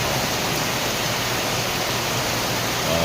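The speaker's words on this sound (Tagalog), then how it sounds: "Baha mga kaibigan sounds sa baha" Floodwater rushes steadily through heavy rain, a dense, continuous roar of broadband water noise with no pauses, loud and close throughout.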